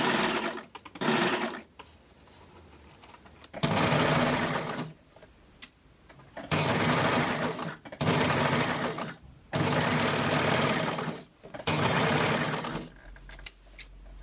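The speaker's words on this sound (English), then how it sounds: "fold in half, pin, and sew 6 millimeters" A sewing machine stitches a folded swimsuit waistband in six bursts of rapid whirring, each a second or two long and separated by brief pauses, close and clear with no talk.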